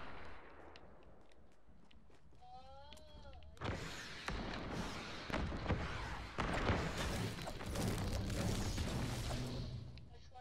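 Explosive blasts and gunfire from a grenade launcher fight in an Xbox video game, loud booms bursting in around the midpoint and continuing densely to the end, with a brief mechanical whine before them.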